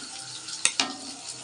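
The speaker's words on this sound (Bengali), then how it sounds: "ছোটো ছোটো করে কেটে রাখা আলুটা ভেজে নেব।" Small diced potatoes fry in a pan for chicken chowmein, a steady close sizzle broken by two sharp utensil clicks.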